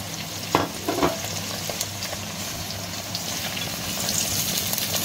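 Red carrots drop into a pan of fried meat for plov and sizzle steadily, with a few clattering knocks from stirring near the start. No one speaks.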